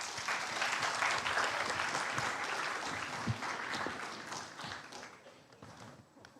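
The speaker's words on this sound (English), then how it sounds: "Let's give them a big round of applause once again" Audience applause for startup competition panelists at a university event fills the space, a dense, steady wash of many hands clapping that holds for several seconds before gradually thinning.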